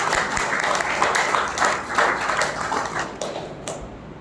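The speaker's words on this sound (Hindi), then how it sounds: "तो धरती पे यहाँ बैठे तालियां तो बजाओ।" A seminar audience seated on the floor claps together, a fairly close, irregular patter of many hands in steady bursts that gradually tapers off.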